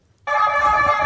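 A siren sounded by a man on the street, snapping on abruptly after a brief quiet moment and then holding a loud, steady wail nearby for the rest of the clip, with no talk over it.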